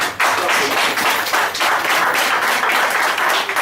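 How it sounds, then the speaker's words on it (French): An audience at a patriotic movement's talk gathering applauds: dense, steady clapping fills the whole stretch at close range, with no voice on top. "On va applaudir ça."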